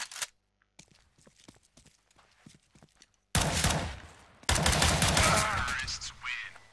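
Gunfire in the shooter CS:GO during a one-on-one match, sharp loud bursts of shots arriving in two dense volleys after a quieter stretch of faint clicks and footsteps, with a commentator talking throughout.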